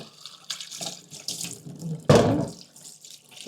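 Garden vegetables, including papaya and beetroot, are rinsed under a running kitchen tap, giving a steady splashing stream with a louder gush of water midway through; no voices.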